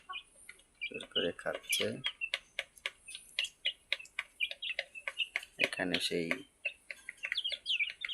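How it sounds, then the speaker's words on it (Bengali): Desi chicks and hens chirp and cluck in a lively scatter while feeding, with someone talking over them in the middle of the clip. "এগুলো হচ্ছে আমার দেশি মোরগ মুরগি"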